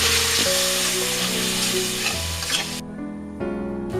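Masala gravy with garlic frying in a kadai for an eggless vegan egg curry, a dense, close, continuous sizzle with stirring that briefly thins and drops in level near the end, with no voices.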